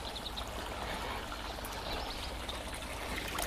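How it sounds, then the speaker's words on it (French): Water being emptied from a fish bag into a garden koi pond, a steady continuous splashing pour that holds at an even level throughout, with no voices. "Et donc je vais vider l'eau."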